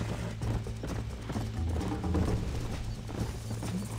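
Horse hooves in Red Dead Redemption on PS5, a quick steady clip-clop of galloping hooves with a brief whinny, close and continuous with no talk.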